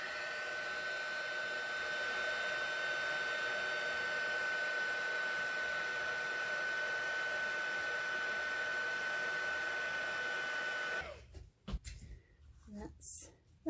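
A heat tool blowing hot air to melt embossing powder for a Stampin' Up! card runs as a steady, close, loud whir for about eleven seconds, then cuts off, leaving a few clicks and handling sounds.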